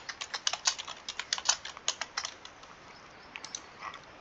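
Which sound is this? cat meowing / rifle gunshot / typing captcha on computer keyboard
typing captcha on computer keyboard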